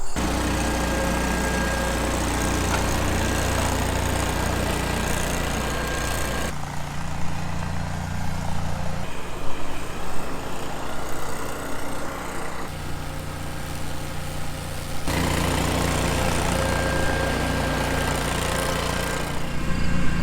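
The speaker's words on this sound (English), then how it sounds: "I'm just shocked at how quiet that mower is." A compact tractor mower engine runs steadily and fairly quietly for a long stretch, a continuous low hum whose tone shifts slightly partway through, with no one speaking.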